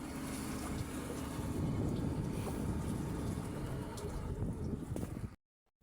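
A motorboat approaching on open water: a steady low engine drone with wind and water noise, holding constant for several seconds before cutting out abruptly.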